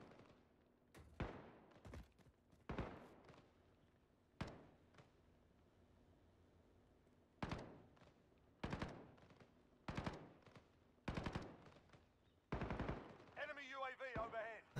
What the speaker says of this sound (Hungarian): Na, mintha itt lövöldöznének.